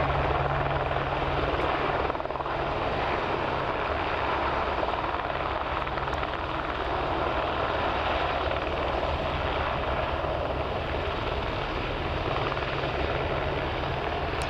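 An Airbus Beluga XL taxiing out toward the takeoff point at Hawarden Airport, heard as a steady, continuous jet engine roar and rumble at a constant distance throughout, with no speech.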